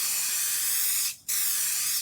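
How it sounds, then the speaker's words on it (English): Glue accelerator sprayed onto the rosette of a steel-string guitar soundboard, two close steady hissing bursts with a brief gap between them. "I'm going to use the accelerator"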